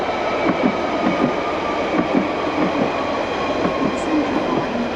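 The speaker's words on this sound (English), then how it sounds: "The train now approaching is to West Lancet." A London Underground Central Line train rumbles along with rhythmic clickety-clack wheel beats and a steady hum as it arrives at the platform, fairly loud and close, with no speech.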